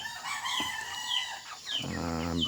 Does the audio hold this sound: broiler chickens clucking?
yes